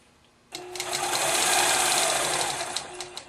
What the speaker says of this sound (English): to be able to quilt this whole border with only one stop and start